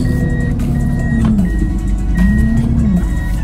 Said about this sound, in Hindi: ये हमने कर दी गाड़ी पार्क